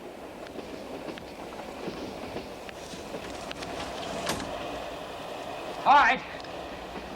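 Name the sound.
train running on rails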